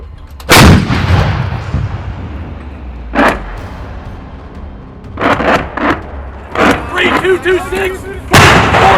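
Artillery barrage striking fighting positions during an Army leader training demonstration, heavy booming impacts arriving irregularly with rumbling decay, some sharp and loud, others more distant, with a brief voice between the blasts.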